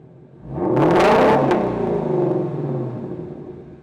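A Ford Shelby GT350 engine with resonator delete and X-pipe idles briefly, then revs from idle to 4,000 RPM in one loud rising roar and settles back down to a lower rumble.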